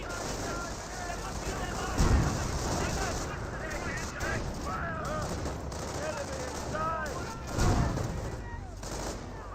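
Anti-tank gun fire and rifle shots in Company of Heroes, a WWII real-time strategy battle, with booming blasts and scattered crackling gunfire under continuous talk from a commentator.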